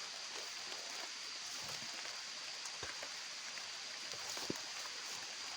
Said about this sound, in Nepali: अब पानी पनि परेर आएछ